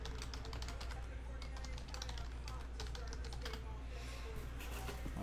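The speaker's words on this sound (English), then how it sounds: "So let's type this in." Quick keystrokes clatter on a computer keyboard during a sports card box break, light clicks in uneven bursts under a steady low background hum.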